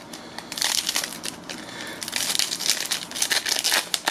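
A Pokemon Generations card pack's foil wrapper being torn open, close and loud crinkling and ripping in quick bursts for a few seconds.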